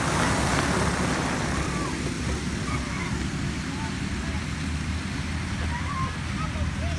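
Predator Medium class race cars run the final lap at Talladega Raceway Park, their engines a steady, unbroken roar that stays loud and even throughout.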